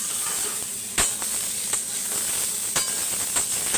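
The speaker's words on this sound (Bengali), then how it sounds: "এরকম লাল লাল করে সবজিগুলো একটু ভাজতে হবে" Vegetables frying with cumin in a pan for a fish curry, a steady hissing sizzle with a few sharp spattering bursts, close and continuous, no talk.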